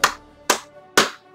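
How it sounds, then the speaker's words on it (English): Three loud, crisp hand claps, spaced evenly about half a second apart, each ringing briefly before the next, with nothing else underneath. "I gotta give him a clap."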